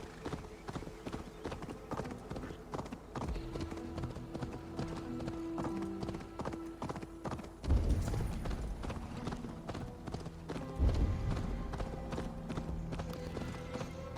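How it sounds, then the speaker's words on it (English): A horse's hooves clip-clop on a road in the video game Assassin's Creed Valhalla, a steady, rhythmic trot that is quiet and moderately close, with a soft game soundtrack and ambience underneath. "There's his horse."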